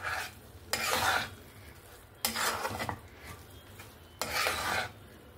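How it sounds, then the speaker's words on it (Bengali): A spoon stirs roasted semolina through sweetened milk in a pan over low gas for halwa. Three separate bursts of scraping and stirring come up close, with quiet pauses between them. "দিয়ে ভালো করে নাড়াচাড়া করে সুজির হালুয়াটা বানিয়ে নেব।"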